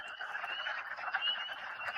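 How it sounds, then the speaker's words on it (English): Wood frogs give dense duck-like clucking alongside high spring peeper calls on a rainy night in a forest, a steady overlapping chorus with no voices. "this is wood frogs quacking along with spring peepers."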